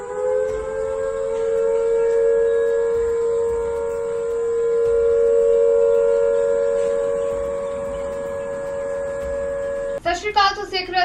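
A loud civil defense air raid siren in Chandigarh, India, wails steadily for about ten seconds during drone attack alerts, rising and falling gently in volume, then a voice begins speaking as it ends.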